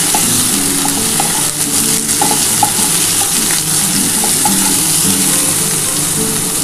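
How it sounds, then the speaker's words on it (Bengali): Bitter gourd pieces with salt and turmeric fry in a pan, a loud, steady sizzle with occasional stirring scrapes and no talking. "দিয়ে সেগুলো একটু হালকা করে ভেজে নেব"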